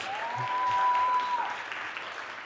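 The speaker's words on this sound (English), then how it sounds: "This is your applause." Dense applause from an audience at Reporter Slam Africa 2024 fills the room steadily for the whole stretch, with a faint sustained tone briefly sounding over it.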